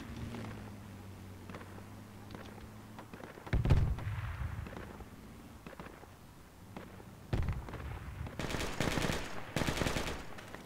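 Video game gunfire crackles in two rounds: a short loud burst first, then a longer stretch of rapid automatic shots. Quieter ambient battle noise runs between the bursts.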